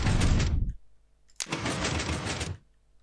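Minecraft flying machine engine built from pistons and slime blocks, heard as two bursts of dense mechanical clattering, the first under a second, then a sharp click and a longer burst of about a second, with quiet between.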